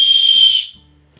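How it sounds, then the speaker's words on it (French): A survival whistle gives one short, loud, shrill blast lasting about half a second and cutting off abruptly, very close, with faint room noise after. "il y a même genre un sifflet de survie"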